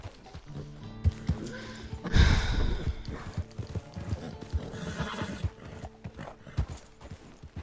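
A horse in the Red Dead Redemption 2 video game whinnies loudly, with rhythmic clip-clop hoofbeats continuing near and clear around the neigh.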